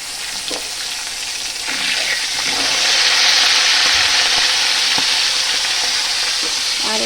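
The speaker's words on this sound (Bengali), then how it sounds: "মাছের মাথা ভাজা হচ্ছে" Fish heads frying in oil in a pan, a loud continuous close sizzle that swells slightly and holds steady throughout.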